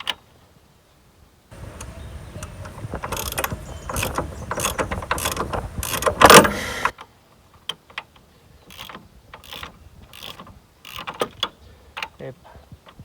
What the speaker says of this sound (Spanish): Cogemos la carraca.